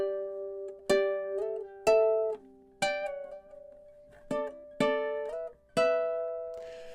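Measures 5 and 6 of a riff on a ukulele, seven distinct plucked notes ringing out in a steady, deliberate rhythm, close and clear with nothing else heard.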